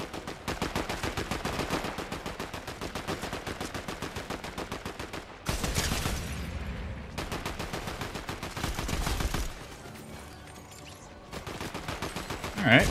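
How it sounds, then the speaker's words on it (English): Rapid automatic gunfire in Fortnite Zero Build, long fast bursts of dense, evenly spaced shots with a short pause and a heavier blast between them, loud and close. "Glad these guys decided to shoot that person and not me."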